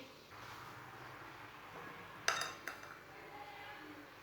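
Carrots for gajar ka murabba are tipped from a strainer into another metal pot, giving a couple of bright metallic clanks midway over a faint kitchen background hum.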